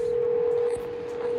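A tablet video call sends out a steady dialing tone, one continuous pitched ring held at a moderate level through the whole moment with faint room sound behind it.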